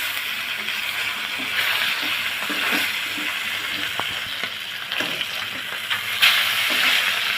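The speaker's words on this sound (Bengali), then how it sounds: "মাছকে আমি লাল লাল করে ভেজে নিব।" Fish fry in hot soybean oil in a wok, a steady close sizzle and hiss with occasional sharper crackles and a few clinks as the pieces are turned one by one.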